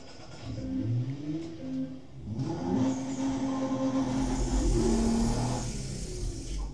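An engine revs in the driving game DR!FT, rising and falling in several loud bursts before settling into a steady, droning run.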